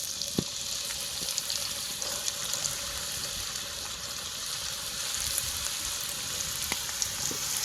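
Carrots frying in hot oil in a pan, a dense continuous sizzle and crackle with a few faint clicks of utensils, steady and close with no talking.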